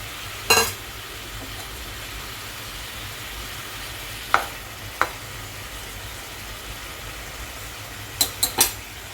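Fried tangra fish cook in an oily spiced gravy in a pan, with a faint low sizzle broken by a few sharp metallic clanks of a spoon against the pan, a cluster of them near the end.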